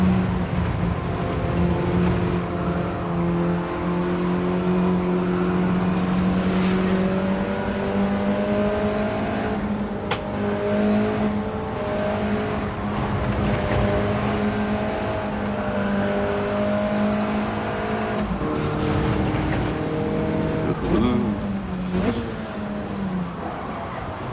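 Race cars on the Brands Hatch circuit in Gran Turismo, a sustained engine drone with shifting pitch and brief tire skids, other cars nearby, running steadily for the whole stretch.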